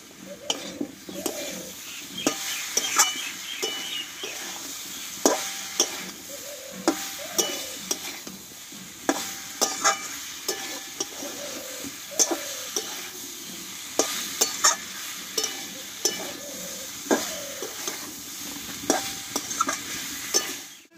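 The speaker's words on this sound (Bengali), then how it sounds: "দিয়ে মশলার সঙ্গে ভালোভাবে একসঙ্গে কষিয়ে নেব" Potatoes, pointed gourd and drumstick pieces are stirred in spice paste in a pan: a soft sizzle runs underneath while a spatula scrapes and knocks in a steady rhythm roughly every second, close up with no talking.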